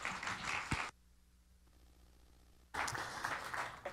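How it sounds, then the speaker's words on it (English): Audience applause for a speaker at a science talk, a dense burst of clapping that stops abruptly, falls to near silence for a couple of seconds, then resumes just as loud. "I always get a little nervous when people clap before I've had a chance to talk."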